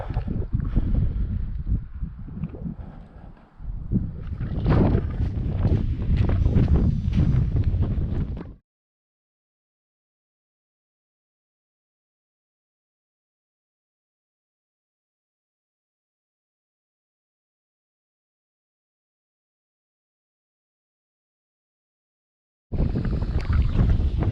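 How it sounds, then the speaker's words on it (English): Heavy wind buffets the microphone in loud, rumbling gusts for several seconds on high moorland above Sheffield, then a long silence before the roaring wind returns. "Really windy up there."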